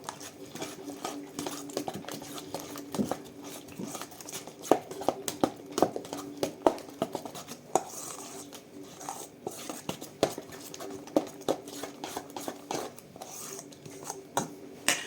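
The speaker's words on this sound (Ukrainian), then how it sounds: "доливаємо одне яйце, розмішуємо" A spoon stirs an egg into a dough mixture in a bowl, giving repeated soft scraping and clicking knocks against the bowl at an uneven rhythm, close and fairly quiet.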